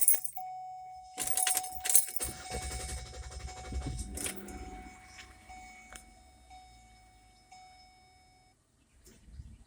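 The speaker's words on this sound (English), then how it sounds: "I'm gonna crank the car up now." 2009 Ford Escape started with a key: jangling keys and clicks, then a short cranking burst as the engine catches and drops into a quiet idle, close and fairly faint with a steady electronic tone.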